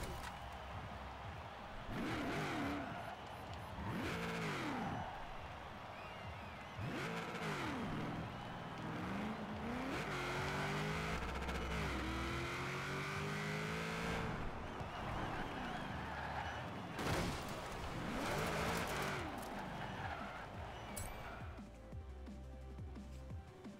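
A car in the Forza Horizon 4 racing game, fitted with a lighter flywheel, revs and drives continuously, the engine pitch climbing and dropping through repeated gear shifts at a steady, moderate level.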